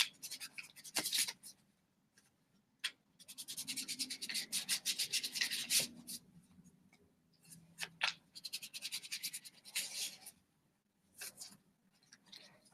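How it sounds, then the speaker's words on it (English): A deck of tarot cards is shuffled by hand in repeated bursts of crisp riffling and rubbing, close and fairly quiet, with short pauses between rounds. "So Teresa, I'm going to go ahead and shuffle for you, and we'll see what card comes up"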